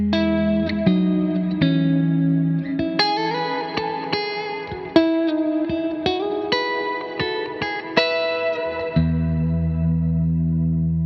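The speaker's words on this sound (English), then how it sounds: "I have the Skylar reverb from GFI Systems and the Keeley Electronics Halo, both in the effects loop of this amp" An electric guitar plays through a Fender Hot Rod Deluxe with a GFI Systems Skylar reverb and Keeley Electronics Halo in the effects loop, picking a clean, echoing melody of plucked notes with long shimmering tails and no voice.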